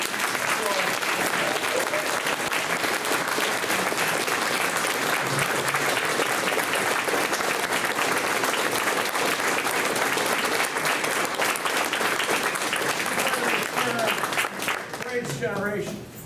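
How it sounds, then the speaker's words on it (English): A veterans Hall of Fame induction audience gives Ralph sustained, dense applause, loud and even for about fourteen seconds before it begins to thin out. "let's have a rousing round of applause for Ralph"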